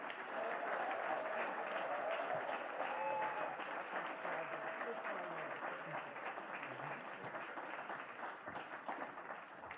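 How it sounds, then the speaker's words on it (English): Sustained applause from a poetry reading audience in Los Angeles, a dense steady wash of many hands clapping for nearly ten seconds, easing slightly toward the end, with faint voices mixed in. "Give yourselves another big round of applause."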